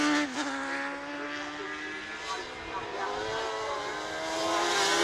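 RX150 rallycross cars, all sharing the same base car, race toward the hairpin at Lydden Hill, engines droning at a sustained high pitch with a brief shift. The cars sound distant and a commentator talks over them.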